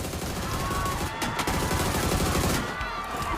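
Rapid gunfire rattles in dense, sustained bursts in a battle royale video game, loud and continuous with little pause between shots.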